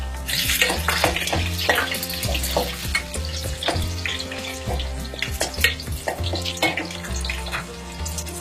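Green chillies and garlic fry in a pan for a mango curry, a steady close sizzle with a spoon scraping and stirring through it in an irregular rhythm.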